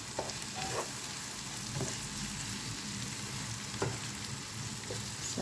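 Scrambled egg frying in a pan for a Filipino breakfast, a steady close sizzle running throughout with a few light scrapes and stirring clicks, no voices.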